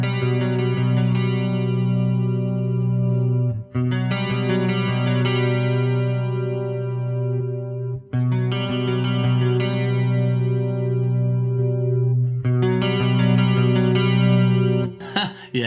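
Electric guitar through an Axe-Fx processor, compared in stereo and in summed mono output, ringing sustained chords with chorus, distortion and delay effects. It plays steadily in long phrases separated by brief gaps, with no voices.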